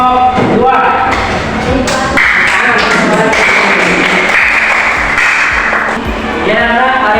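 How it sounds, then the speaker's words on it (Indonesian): A classroom of students claps for a group of classmates during an English lesson, making loud, dense applause that carries on for several seconds. Voices and some tapping and thumping mix in with it. "Tepuk tangan untuk kelompok 2."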